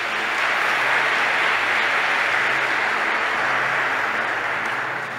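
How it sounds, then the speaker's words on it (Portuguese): Large audience giving a sustained round of applause at a religious talk, a dense, even wash of clapping that holds steady for several seconds before easing slightly at the end. "Uma salva de palmas para Ele."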